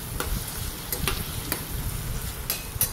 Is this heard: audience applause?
no